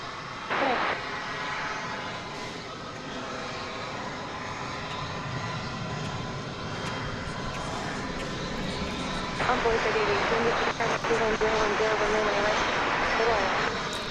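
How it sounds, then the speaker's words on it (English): An American Airlines jet arriving at DFW Airport gives a steady, broad engine roar that swells louder toward the end, with radio or commentary voices talking over it. "Coming in on top there is American Flight 2753 from Cedar"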